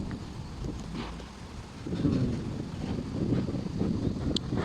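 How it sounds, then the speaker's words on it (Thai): Strong wind buffets the microphone in rumbling gusts that swell louder after a moment in Finland, near a small boat. Water sounds faintly underneath and no one speaks. "ลมแรงมากเลยค่ะ"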